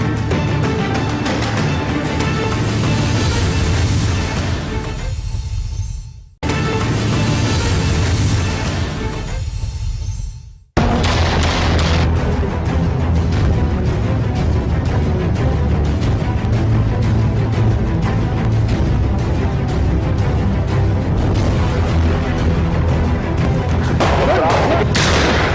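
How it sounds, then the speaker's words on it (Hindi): Police gunfire in a crime-show scene where a dacoit tries to escape custody: loud, dense, sustained volleys that fill nearly the whole stretch, broken by two brief drops before resuming at full intensity. "पुलिस की तरफ से अभी फायरिंग का अमल शुरू हो चुका है।"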